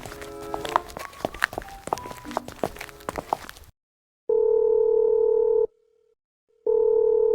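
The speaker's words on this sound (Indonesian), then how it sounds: "Mama masih telepon Pak Karto, tapi dari tadi itu nggak diangkat-angkat." In Sakura School Simulator, a phone call rings out unanswered: two long, steady ringback tones separated by a pause, following a stretch of footsteps and game sounds.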